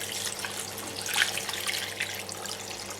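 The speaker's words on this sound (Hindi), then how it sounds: "साथ ही में आप ऐड करेंगे यहाँ पर पानी" Water pours from a tap into a cooking pot for chinyoti pilau, which already holds cumin, salt and ginger-garlic paste, making a steady, splashy, moderately faint gush with a brief louder surge partway through.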